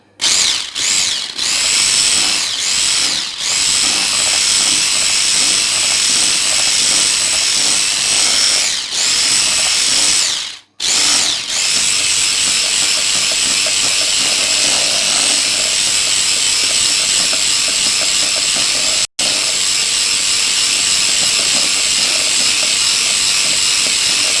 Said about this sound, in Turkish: Bir tane de vanilyamızı ilave ediyoruz. Çırpalım.